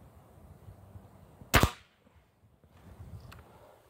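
A Daisy Powerline 1101WS air pistol fires one sharp, crisp crack that dies away quickly, followed by a faint metallic tick and quiet outdoor background.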